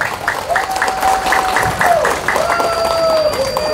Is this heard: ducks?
no